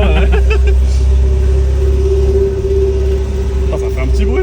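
MGB GT classic car engine droning steadily while driving, a loud continuous low rumble with a sustained hum throughout, people talking over it.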